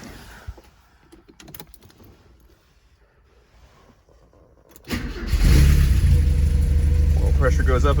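A 1984 Porsche 944, ice cold after sitting overnight, cranks briefly after a few quiet clicks and catches, its engine settling into a loud, steady, close idle.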